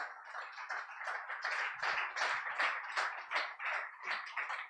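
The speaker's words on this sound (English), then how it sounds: "please, a huge round of applause for all the speakers" Audience applause at a property investment conference, a dense wash of many hands clapping steadily at close range for several seconds, rising and falling slightly with no voices over it.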